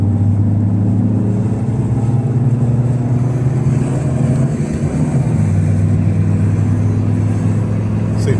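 A Honda Civic drives steadily after a clutch and gearbox replacement, its engine humming low and continuous at close range with some road and tyre noise throughout.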